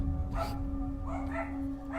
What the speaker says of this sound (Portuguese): do nada meus cachorros, vai começar a latir